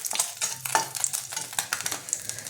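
Dry red chillies crackle and sizzle as they hit hot oil in a wok, with a steady close frying hiss and stirring scrapes running through the short burst.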